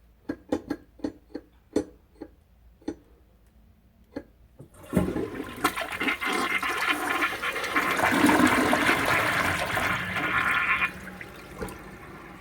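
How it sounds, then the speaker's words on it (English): A run of sharp clicks and handle knocks gives way to a Mansfield toilet's single loud rushing flush, which swirls for about six seconds before draining off into a few last drips. "This toilet bowl only flushes once."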